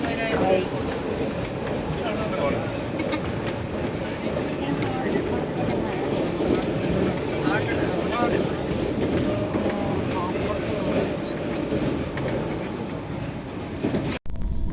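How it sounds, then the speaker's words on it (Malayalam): Passenger train running at speed just after leaving Kannur, a continuous loud rumble and rattle of wheels on rails heard from inside the coach, steady throughout with no speech. "അപ്പോൾ നമ്മുടെ ട്രെയിൻ ഇപ്പോൾ കണ്ണൂരിൽ നിന്ന് പുറപ്പെട്ടു"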